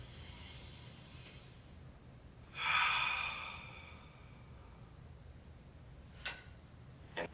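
One deep, breathy inhale-exhale during a step ladder breathing exercise, a soft airy rush standing alone against quiet room tone, followed later by a couple of faint short breath sounds.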